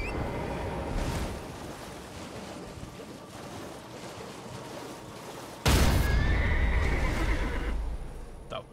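A frightened spectral steed neighs in Elden Ring, a sudden loud whinny bursting in near the end over a murky, droning ambient backdrop with faint rumbling.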